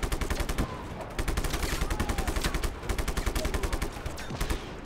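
Rapid shotgun blasts in Just Cause 3, loud repeated bursts in quick succession with a short pause near the middle, close and dense like sustained gunfire.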